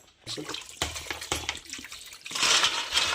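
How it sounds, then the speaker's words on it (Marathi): Clams being washed in clean water before cooking, with splashing, rinsing water and shell clatter in several bursts, building to a louder, steady wash near the end. "तर स्वच्छ पाण्यात पहिले धुवून घेऊया"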